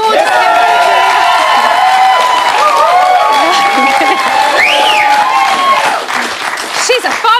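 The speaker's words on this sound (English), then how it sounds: "Round of applause for the gorgeous Kimberly." A studio audience claps and cheers loudly for a guest on a live television reality spin-off show. The sound is steady and close, with whoops and shouts over the applause, and a presenter talks through it.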